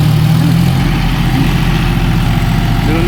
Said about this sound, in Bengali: দেখুন এটা গিয়ার চেঞ্জ করছে আরপিএম তারপরেই করছে, তারপরে এগোতে পারছে না।